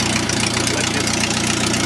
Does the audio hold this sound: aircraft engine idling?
yes